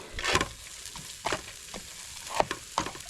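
A cup of instant white rice stirred and frying in a little oil over low heat at a riverside camp, with a soft steady sizzle broken by several scraping stirs.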